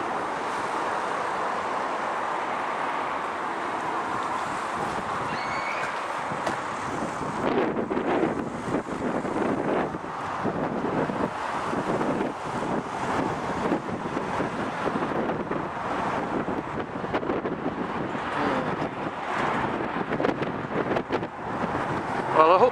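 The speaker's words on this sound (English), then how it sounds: "It's still windy, but I tried to keep out of the wind as best I could." Wind blows against an outdoor microphone in a continuous rough roar that swells after the first few seconds, with a voice talking faintly beneath it.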